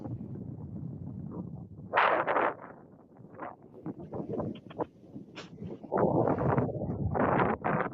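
Gusty outdoor wind buffeting a microphone, with loud broadband rumbling bursts around two seconds and again from six to eight seconds, easing between gusts into a lower, uneven roar.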